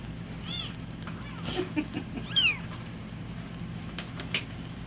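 Small kitten meowing during bottle feeding, a few faint thin cries scattered over a quiet room with soft background talk.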